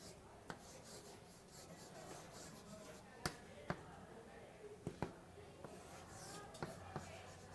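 Writing on a board during a university calculus lecture gives a faint, continuous scratch broken by scattered sharp taps of the writing tool, at a distance in a quiet room.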